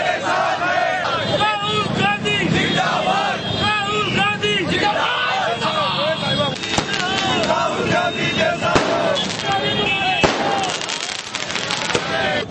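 Firecrackers going off at an outdoor political celebration at a busy market crossroads, a dense rapid crackle of bangs under a cheering crowd and shouting voices, loud and continuous.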